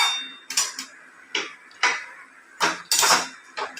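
Spoon clinking and scraping against a cooking pan while milk and ash gourd are stirred, several sharp separate clacks spaced irregularly and close by, with no talk.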